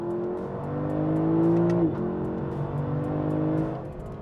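A 2023 Lexus LC500 engine accelerates with a smooth, rising growl. The pitch climbs, drops briefly as it shifts gear, then pulls again, heard fairly close and alone.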